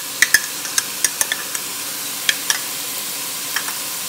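Minced garlic sautéing in a pot for New England clam chowder, a light background sizzle punctuated by sharp, irregular crackles and pops, fairly close.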